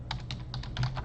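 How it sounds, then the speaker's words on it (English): Quick keystrokes tap on a computer keyboard, roughly eight light, evenly paced clicks close by, with a faint low hum underneath. "Let's just type in iPhone"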